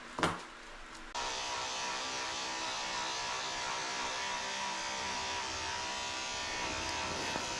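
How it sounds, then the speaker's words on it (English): Electric dog clippers with a 10 blade shaving the belly of a senior Shih Tzu: a click, then a steady, close, loud buzzing hum that runs on unbroken with a faint rasp of the blade through the fur. "I'm shaving out his belly and his private area with a 10 blade"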